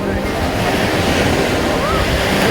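Sea waves rolling onto a beach at Kannur, a steady loud wash of surf with wind buffeting the microphone, continuous and close, with no distinct voices.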